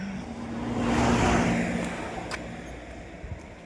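A vehicle passing on a rural road during a morning walk among banana and areca plantations, its engine swelling to a broad peak and fading away again, moderately loud.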